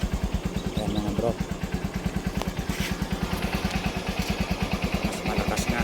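Suzuki Supremo motorcycle engine idling with a steady, rapid, even thump, close by and continuous throughout, with a few faint clicks and light background noise above it.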